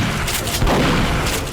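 A shotgun blast in the game Duke Nukem, a heavy, booming shot with a broad rumbling tail filling the short moment, loud and close.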